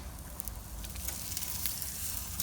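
Steak sizzling on a hot grill, a steady crackling hiss with scattered sharp pops, moderately loud and with no voices.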